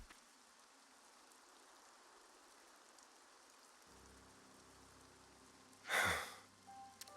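Rain falling in the video game Xenoblade Chronicles 3 makes a steady, soft hiss, then a brief louder whoosh swells near the end.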